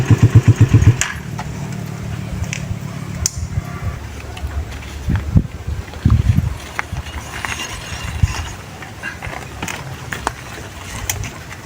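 A motorcycle engine sputters and idles with uneven bursts, then settles into a rough rumble interrupted by clanks and knocks nearby.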